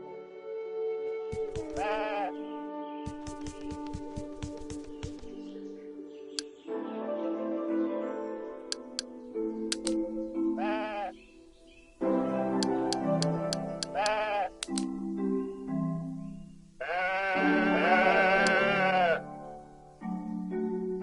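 Sheep bleat repeatedly against a musical backdrop of sustained tones, several wavering calls scattered over about twenty seconds, some overlapping, fairly close and clear with no talking.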